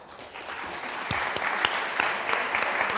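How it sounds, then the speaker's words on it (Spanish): At a presentation of Turia, a literary magazine from Teruel, the audience breaks into applause. It starts softer, then swells into a full, steady round of clapping with some crisp individual claps. "gracias por este aplauso"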